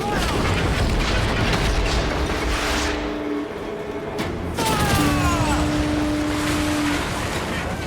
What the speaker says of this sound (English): To quarters all, man the cannons!